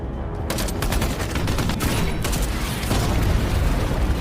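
Gunfire and explosions in a film battle scene between elite Russian forces, a dense continuous barrage of overlapping shots and deep booms that stays loud throughout.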